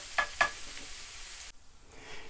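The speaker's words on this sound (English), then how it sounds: "so my onion will burn off for a couple of seconds" Onion sizzling in a frying pan for a mince beef and baguette dish, with two short scraping stirs early on, then a soft steady hiss that drops away and returns faintly.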